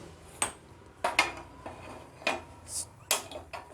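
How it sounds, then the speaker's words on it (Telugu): A pan is set on a kitchen stove with a handful of sharp metallic clanks and knocks spaced irregularly over a few seconds, close and fairly crisp, with no talk. "ఇప్పుడు ఒక ప్యాన్ పెట్టుకొని"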